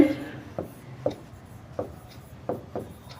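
Chalk or marker writing on a board during a physics lecture, a series of short scratchy strokes at irregular intervals, fairly close, with someone speaking at times.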